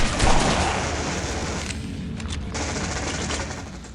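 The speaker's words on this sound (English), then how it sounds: "Who's shooting me?" Rapid bursts of video game gunfire from enemies in Red Faction 2, loud and dense at first, then a sustained rattling fusillade that gradually eases in level, with no talking over it.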